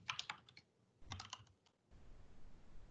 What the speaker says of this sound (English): If I type this in